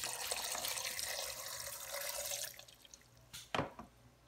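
Water trickles and splashes into finely grated coconut while making homemade coconut oil, a soft, close pour that fades out and ends with a few faint drips and clinks.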